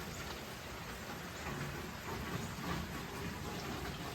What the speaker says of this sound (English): It's been a gentle rain for hours now.